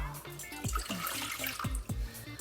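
Water poured into a cup in a kitchen while preparing churros dough, a short run of gurgling splashes and drips, close and fairly quiet, with no talking.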